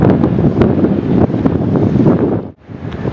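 Wind buffeting the microphone over sea waves at Clifton beach in Karachi, a loud, constant roar of surf and gusts that dips briefly near the end, with no voices.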